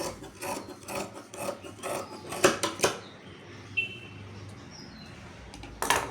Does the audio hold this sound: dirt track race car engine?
no